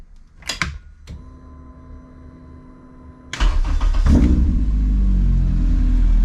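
A K24-swapped Honda Jazz race car fires up from a push button: switch clicks and a starter whir, then the engine catches loudly, settles into a deep, rough idle and rises in a rev, close by.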